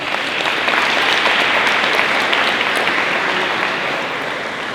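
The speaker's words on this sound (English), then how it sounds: "Let's give yourselves a round of applause." Loud, sustained applause from a large student audience at a university event, a thick, even roar of clapping that fills the whole stretch and eases slightly at the close.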